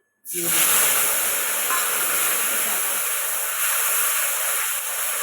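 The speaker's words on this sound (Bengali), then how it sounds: "একটুখানি জিরাটা একটু ভাজা হোক" A sudden burst of loud hissing sizzle as cumin seeds hit hot oil, then a steady, close frying hiss that continues without talk.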